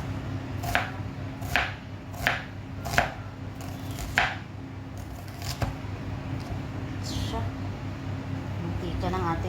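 Onion is chopped with a knife on a board in a quick run of sharp cuts, then a few scattered taps, over a steady low background hum; the chopping fades into the hum.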